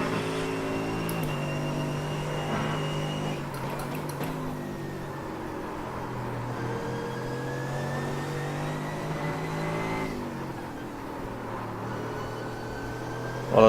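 A Mercedes race car engine in the iRacing sim at Sebring drones steadily, its pitch rising and falling as the throttle changes, with no talking.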